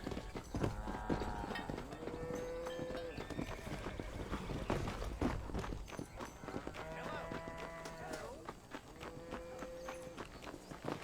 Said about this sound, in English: What's with the horse?